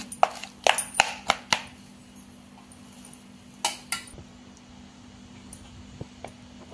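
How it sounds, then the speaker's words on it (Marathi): Cooked eggplant being mashed in a bowl for bharit, heard as a series of sharp clinks and taps of a utensil against the bowl, bunched at the start and sparser later, without talk. "आता आपल्याला एका बाउल मध्ये त्याला मॅश करून घ्यायचं आहे"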